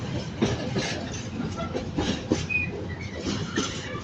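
Freight train rolling through Manchester Piccadilly station, a steady loud rumble with rhythmic clickety-clack of wagon wheels and brief squeals from the rails, continuous throughout.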